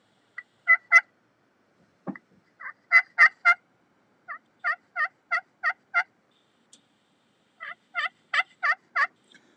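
Wild turkey gobbling in the open, several rattling gobble bursts in quick rhythmic runs spread across the clip, clear and moderately near, with quiet pauses between calls and no talking.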